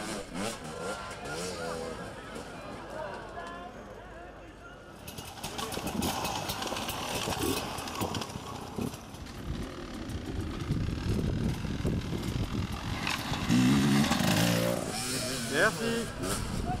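Hard enduro motorcycles rev and strain through a difficult race section, their engines rising and falling under continuous commentary, with a louder, more sustained engine burst toward the end.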